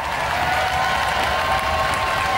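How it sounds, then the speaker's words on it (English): Robot Wars studio audience applauds a competing robot, a dense, steady wash of clapping with a faint tonal hum underneath, loud and continuous throughout. "A round of applause for Steg 2!"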